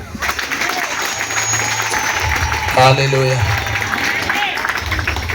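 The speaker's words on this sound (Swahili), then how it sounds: "Yesu makofi." A church congregation bursts into brief, loud applause during a lively worship service, the clapping joined by voices calling out praise.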